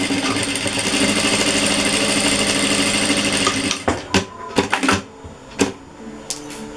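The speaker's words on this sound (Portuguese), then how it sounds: "Costurou de um lado, vamos costurar do outro." A sewing machine stitches a Christmas tree wall hanging, running in a steady fast whirr for several seconds. It then stops, followed by a few sharp clicks and handling knocks.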